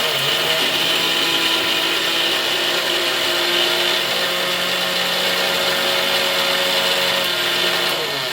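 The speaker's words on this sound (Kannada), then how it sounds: "ಮಿಕ್ಸಿಗೆ ಹಾಕ್ಕೊಂಡ್ಬಿಡ್ತೀನಿ." A kitchen mixer grinder runs steadily with cumin and tamarind inside, a continuous loud whirring motor drone with a faint hum, lasting throughout with no talk.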